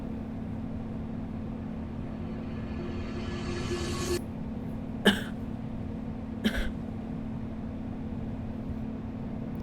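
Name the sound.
repeated coughing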